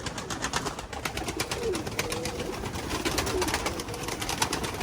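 Pigeons coo softly and repeatedly nearby, with a rustling of wings and rhythmic fluttering throughout.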